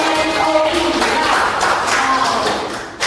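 Applause from a group at a teacher-training session, a dense wash of claps that stays steady and fairly loud before fading toward the end.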